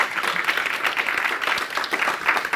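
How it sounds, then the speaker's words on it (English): An audience applauds a speaker taking the stage at a live talk, dense steady clapping filling the room at an even level for the whole stretch. "A big round of applause, standing ovation round of applause."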